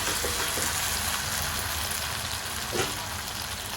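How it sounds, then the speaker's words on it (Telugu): Eggs frying in hot oil for a tomato egg curry, with a steady, close sizzle running throughout and a brief louder crackle near the end. "నూనె పంత పైకి తేలింది కదా ఇప్పుడు మనం దీంట్లో ఎగ్స్ వేసుకుందాం"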